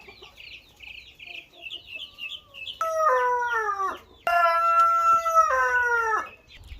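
Chickens cluck softly in the background in the Philippines, then a rooster crows loudly twice, long drawn-out calls close by.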